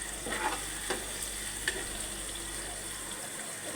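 Onion and chilli fry in a pan, a faint, continuous soft sizzle with a few light stirring knocks, heard up close and quiet with no talking.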